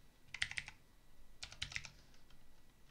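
Computer keyboard typing comes in two brief bursts of quick, light key clicks separated by a pause, faint and close in a quiet room.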